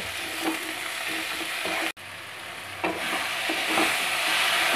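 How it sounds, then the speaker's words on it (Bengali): Spice masala with turmeric and a little sugar sizzles and fries in a pan for a chicken lababdar while a spoon stirs it, scraping now and then over a constant hiss, no voices. "এবারে সমস্ত মশলাগুলোকে ভালো করে মিশিয়ে নেব আর ভালো করে কষে নেব"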